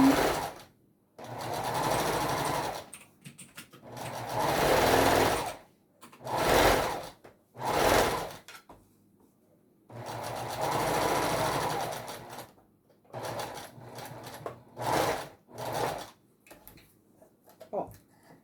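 A sewing machine stitches the body of a Christmas Santa doll in short bursts of rapid whirring separated by pauses, close and clear, with no talking.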